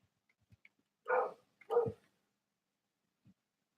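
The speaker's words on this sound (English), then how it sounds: "Overlook it if you hear my dog bark in the background." Two muffled dog barks in quick succession from somewhere off in another room, followed by a faint yip, with near silence around them.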